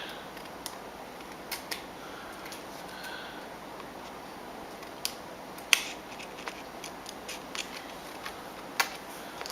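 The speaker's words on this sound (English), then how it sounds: "I'm going to trim around my acetate." Scissors trim around a sheet of acetate, giving scattered sharp snips and crisp clicks over a faint hiss, close by and fairly quiet, with uneven gaps between cuts.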